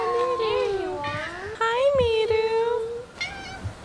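A pet cat meows several times in a row, the calls rising and falling in pitch, close by and fairly loud, with short pauses between them.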